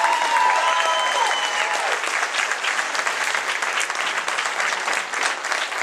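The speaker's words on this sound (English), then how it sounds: "I want you to give one more round of applause to Susan Ekstrand" Studio audience at a Rising Star 2011 singing competition applauds a contestant, dense clapping sustained loudly throughout with steady crowd texture, a brief tonal sound near the start.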